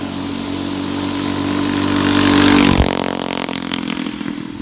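Mini bike engine on a go-kart style setup revs up loudly and steadily, pitch climbing as it gains speed, then drops off sharply near the end into a lower, rougher running tone.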